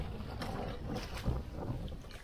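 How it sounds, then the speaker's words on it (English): Strong wind gusting at a storm drain blocked with leaves, a steady rushing buffet with low rumbling wind noise on the microphone throughout. "It's super windy."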